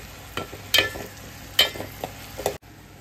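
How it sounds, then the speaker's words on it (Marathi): Tomatoes cooking in a pan for a squid masala, with a few bursts of stirring and scraping and a faint sizzle underneath, with no talking. "टोमॅटो आपल्याला चांगला परतून घ्यायचा आहे"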